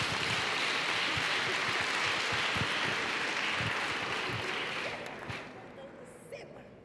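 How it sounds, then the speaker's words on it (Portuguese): Church congregation applauding during a revival worship service, a dense, steady wash of clapping that fades away toward the end. "Uma salva de palmas para vocês"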